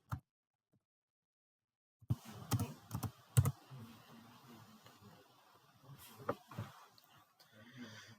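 Quiet typing on a computer keyboard entering a multi-factor identification code, a single click, a pause, then a run of irregular keystrokes close by, soft and alone.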